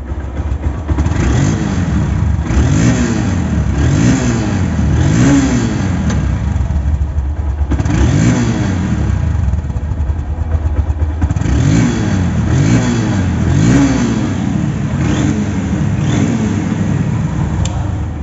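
A second-hand Honda CB Hornet motorcycle engine revs loudly and close, climbing and falling in repeated throttle blips over a steady running drone, without any talk.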